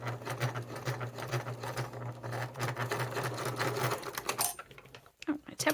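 Sewing machine with a Teflon foot stitching the ends of a strap around a D-ring runs in a steady close-up rapid chatter, then stops near the end.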